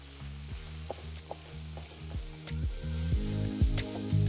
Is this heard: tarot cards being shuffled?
no